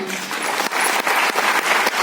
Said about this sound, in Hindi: मैं एक बार जोरदार ताली चाहूँगा गौरव सर के लिए